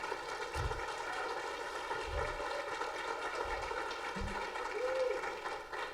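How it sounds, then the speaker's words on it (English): Audience applause for a presenter at a Colorado opioid abatement conference, a steady broadband wash of clapping throughout with a faint low hum and some soft low thumps underneath. "So if you don't mind just giving us a round of applause for her"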